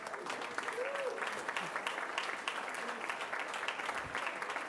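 An audience at a school district board meeting claps in sustained, even applause, moderately close and steady throughout, with a faint voice briefly beneath it.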